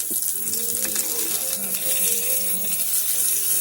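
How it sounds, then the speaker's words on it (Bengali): Parathas frying in Dalda vanaspati in a pan give a steady, close hiss and sizzle that runs unbroken throughout, with faint tonal kitchen noise beneath and no one speaking. "দিয়ে আমি পরোটাগুলোকে ভেজে নেব।"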